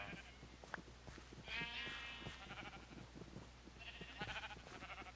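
Minecraft sheep bleat repeatedly in a game, several wavering calls overlapping amid soft clicks and footsteps, faint and fairly distant.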